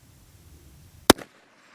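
A single sharp shot from a Volquartsen Scorpion .22 WMR pistol at an outdoor range, a loud, close crack followed by a brief echo, then near silence.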